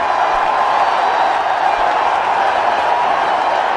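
A cricket stadium crowd at a one-day international final between India and South Africa roars steadily after a six, a dense, continuous wash of cheering with no breaks.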